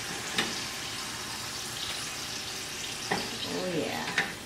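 Potato Parmesan chips are lifted from hot frying oil, with a steady sizzle and bubbling throughout and a few sharp clinks and scrapes of a utensil against the pan, close by. No one speaks.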